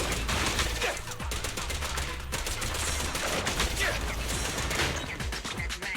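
Billy blasts his guns in Zenless Zone Zero, rapid bursts of gunfire crackling densely over a throbbing game soundtrack, loud and continuous with brief gaps, and a voice speaking briefly amid the shots.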